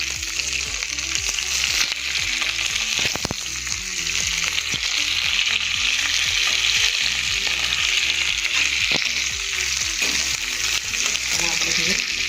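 Chopped onions and tomatoes hit hot oil in a pan while cooking a spicy Indian yam gravy, giving a loud, steady sizzle with scraping stir strokes throughout, no voices.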